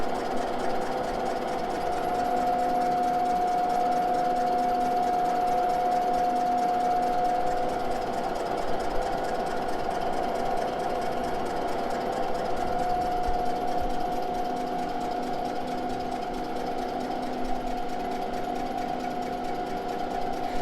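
A jig boring machine cutting 1953 Harley Davidson K engine cases at 270 RPM, a steady mechanical hum with a faint rhythmic chatter holding even for the whole stretch, with no talking.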